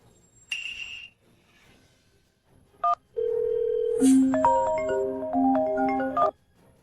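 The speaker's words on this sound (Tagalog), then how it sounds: "Yang Master Su, bakit mo naman naisip ang tawagan ako?" Electronic telephone keypad tones, a brief beep then a rapid run of stepped dialing tones lasting a couple of seconds, clear and close with no voices.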